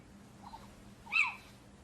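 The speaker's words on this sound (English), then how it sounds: "One little owl is distracted by bright lights." A single short call from a little owl at night in Venice, heard faintly around the middle of a quiet stretch, with a soft low hum of background noise throughout.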